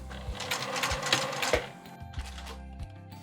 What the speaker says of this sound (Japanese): でここで返し縫いをします。